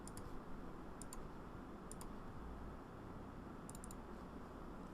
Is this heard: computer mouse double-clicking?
yes